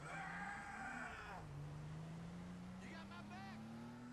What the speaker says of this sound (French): Attention, un tracteur qui arrive.